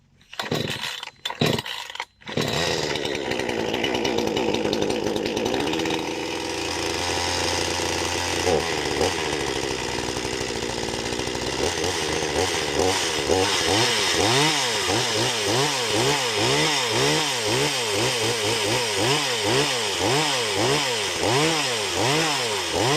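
Parkside petrol chainsaw, a budget saw, pulled to life with the choke out, then idling and revving loud and close in steady rising-and-falling surges that settle into a rapid pulsing throttle pattern.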